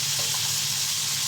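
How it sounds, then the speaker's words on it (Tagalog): Water poured into a cooking pot, a brief steady hiss and splash, close and uninterrupted. "Kaya natin siya lagyan ng tubig."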